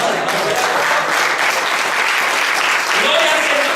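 Church congregation applauding during a sermon, loud close clapping throughout with voices calling out over it.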